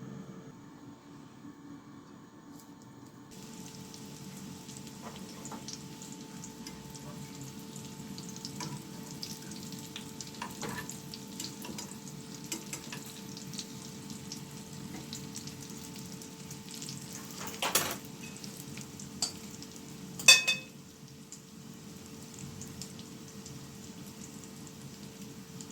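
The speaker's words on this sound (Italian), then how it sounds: "le ho messe a cuocere nell'olio bollente" Quiet, steady sizzling of dough balls frying in boiling oil, a soft continuous crackle with a few sharper clinks near the end.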